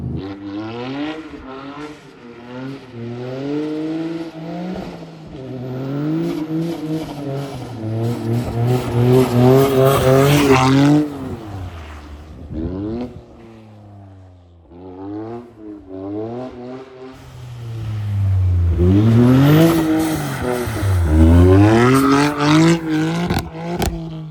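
A Toyota GR Yaris drives on snow, its engine and exhaust climbing through revs in repeated rising pulls with gear changes between them, loud and close, the tone dipping during a quieter lift-off midway.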